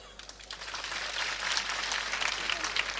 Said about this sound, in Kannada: ಇವ ಹ್ಞೂ ಅಂದ್ರೆ ಚಪ್ಪಾಳೆ ಹೊಡ್ರಿ ಎಲ್ಲ.